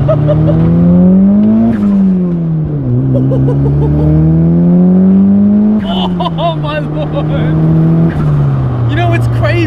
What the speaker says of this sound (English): Listen to that noise! The car just keeps pulling and pulling.